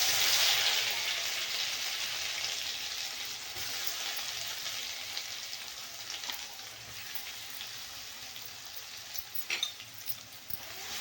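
Mustard seeds and cumin fry in oil for an eggplant and potato dish, a dense, even crackling sizzle that starts loud and eases slightly, with a few small spattering pops near the end.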